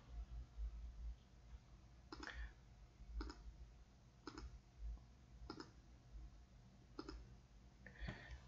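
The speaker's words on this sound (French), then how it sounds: "Il suffit juste de cliquer deux fois dessus." A computer mouse clicks quietly about half a dozen times at roughly one-second intervals against a low background hum.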